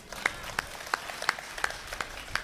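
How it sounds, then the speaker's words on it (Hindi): An audience claps in slow, evenly spaced rhythmic beats at a Hindi humorous talk, each clap distinct and fairly close, with no talk over it. "अब आपकी तालियां उठेंगी।"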